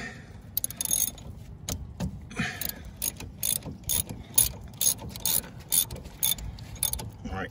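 A ratchet with a 12 mm socket loosens the front caliper bolts on a 2007 Jeep Liberty Sport, making a close, rapid series of sharp metallic clicks in uneven bursts.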